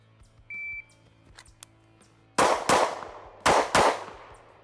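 A short electronic shot-timer beep sounds, then two quick pairs of sharp, loud shots from a Kimber CDS9 pistol ring out close by, echoing briefly.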